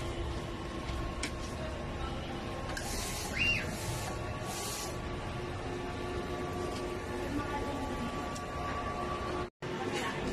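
An inkjet printer runs a nozzle check, its mechanism whirring and clicking steadily at moderate distance as the print head shuttles, with a low hum underneath and a brief dropout near the end.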